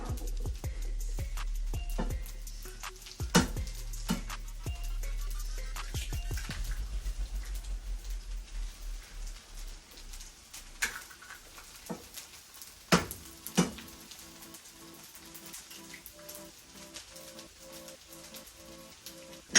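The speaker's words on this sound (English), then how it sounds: "I'm gonna go ahead and add 2 eggs" Two eggs dropped into hot cooking oil in a pan, with a burst of crackling and popping spatter that settles into a steady sizzle, punctuated by a few sharp clinks of a utensil against the pan.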